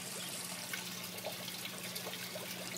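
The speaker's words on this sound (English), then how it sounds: "essentially this water is trickling down on the glass" Water trickles steadily down a glass pane in a home spirulina-growing setup, a soft continuous wash with faint drips, close and alone.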